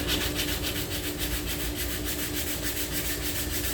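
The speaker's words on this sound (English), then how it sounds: "Now let's go ahead and I'll show you how to sand this" Steady rhythmic rubbing and scraping of sanding a 2017 Chevy Sonic body panel, fast back-and-forth strokes continuing without pause, close by.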